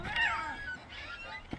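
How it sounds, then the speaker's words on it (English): A cat in the video game What Remains of Edith Finch lets out one clear meow near the start, followed by softer trailing cries and a faint bump at the end. "I hear a cat."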